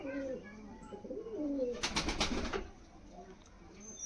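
A female pigeon of a fancy breed coos softly in a short, low, throaty burst at the middle of the clip, quiet and fairly close, with faint background voices before it.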